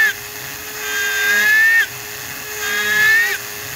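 Power drill with the bit cutting diagonal tread grooves into a rear tire, whining loudly and close in two long rising passes, each ending with a short drop in pitch.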